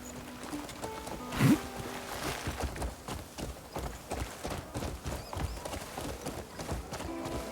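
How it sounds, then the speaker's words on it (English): Horse hooves clip-clop steadily in the video game Crimson Desert, a continuous rhythmic trot at moderate volume with a brief louder thump near the start and no talking over it. "we might as well get our horse. And use our horse."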